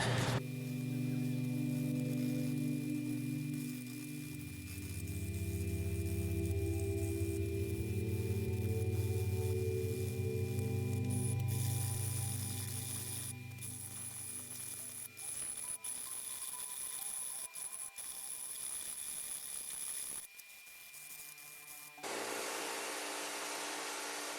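A wooden fork is worked with rough 60 grit sandpaper, and a continuous power-tool drone accompanies steady abrasive rubbing before the machine spins down near the end.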